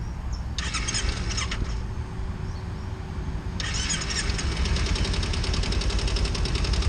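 A fuel-injected Kawasaki Ninja 250 motorcycle engine cranks and catches, then settles into a steady idle with a rough, mid-pitched rumble and some high mechanical whine.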